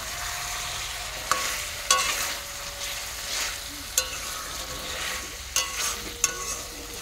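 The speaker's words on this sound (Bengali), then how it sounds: "চিকেনটা একটু তাড়াতাড়ি রান্না করার জন্য একদিকে চিকেনটা কষাচ্ছি" Chicken being stir-fried in a pan, with a steady sizzle broken by several sharp spatula knocks and scrapes at irregular intervals, close and clear with no talking.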